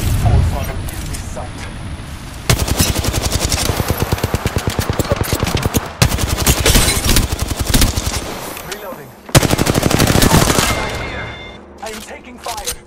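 Rapid automatic gunfire from the video game Apex Legends rattles in long bursts with brief pauses, loud and close, mixed with game voice callouts.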